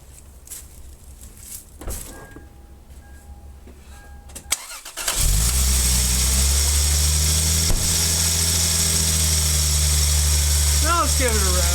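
A Lexus IS300 cranks and catches after a few quiet clicks, then settles into a loud, steady close idle with a low rumble that carries on to the end.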